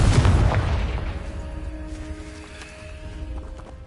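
Confringo fire spell blasting in the video game Hogwarts Legacy: a loud, deep explosive boom at the start that rolls off into a long fading rumble with faint ringing tones, no voices.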